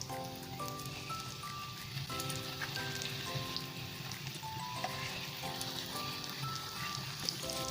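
Chicken kebabs shallow frying in hot oil in a pan, a steady dense crackling sizzle throughout, close and even, with a few faint tonal background sounds and no talking.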